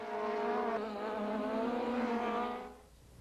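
Formula Super Vee open-wheel race cars howl past at high revs in an SCCA race at Addison, 1989, a steady loud harmonic engine scream that drops away sharply near the end.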